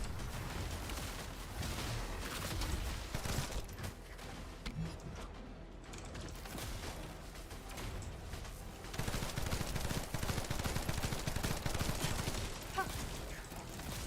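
Continuous rapid gunfire in The First Descendant game, dense crackling shots running steadily for many seconds at moderate loudness with mechanical clatter mixed in.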